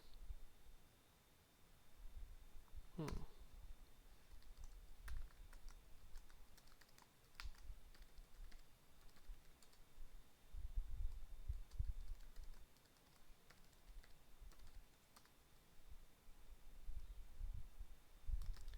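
Password being typed on a computer keyboard, heard as faint, scattered key clicks over a steady low background hiss with one sharper tap near the start; no voices.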